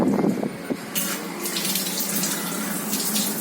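Tap water runs into a sink as a child washes hands, a steady close splashing stream that carries on throughout, with brief bursts of stronger splatter.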